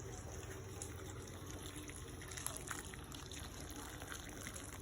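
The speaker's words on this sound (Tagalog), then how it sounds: "Lalagyan lang namin ang tubig na mainit." Hot water poured over rock-clinging shellfish during cooking, a steady broad watery rush running throughout at moderate level, fairly close.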